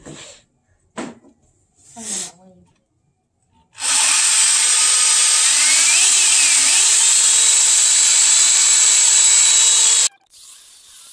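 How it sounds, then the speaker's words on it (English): A loud, steady power drill whines continuously for several seconds, drilling mounting holes in metal on a dirt bike, preceded by a few short bursts of talk and clatter. "an hour and a half of me and Bob trying to drill some mounting holes."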